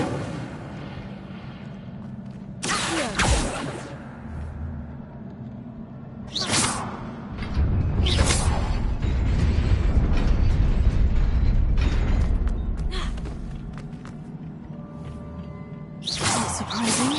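An Incendio fire spell cast in Hogwarts Legacy, heard as sharp whooshing bursts followed by a long, roaring rumble of flame that swells and then fades, with creaking, mechanical game sounds in between.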